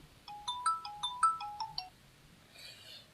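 A phone ringtone plays on an outgoing call, a bright melodic sequence of quick tones repeating twice, clear and close, then falling quiet.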